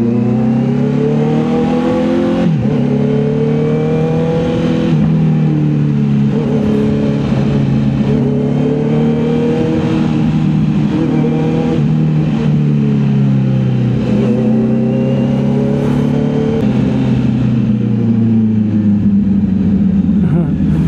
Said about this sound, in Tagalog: Ang ganda talaga ng tunog ng inline 4